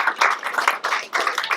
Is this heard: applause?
yes